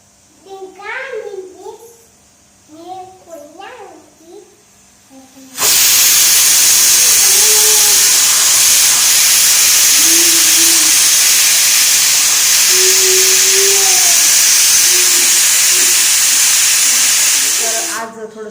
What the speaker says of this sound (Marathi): खूप छान स्टीलचा कुकर आहे